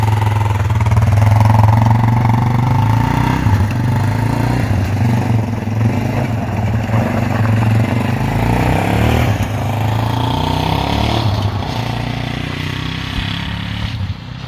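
The rebuilt engine of a 1998 Yamaha Warrior motorcycle runs steadily at a loud, close, throbbing idle, with slight revs and a clattery mechanical edge.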